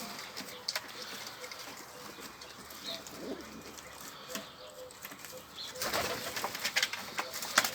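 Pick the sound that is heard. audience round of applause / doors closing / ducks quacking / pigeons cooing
pigeons cooing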